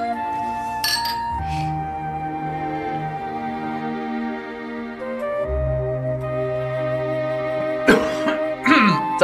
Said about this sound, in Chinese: 干杯。